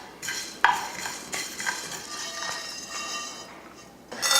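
A spoon scrapes and stirs pepper, coriander seeds, chana dal and sesame as they dry-roast in a pan, giving irregular close scratchy strokes and light clinks over a soft rustle of seeds shifting.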